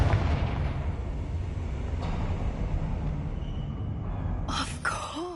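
Confringo fire spell blast from the Hogwarts Legacy video game, a dull rumbling burst over steady game ambience, ending with a sharp whooshing flare near the close.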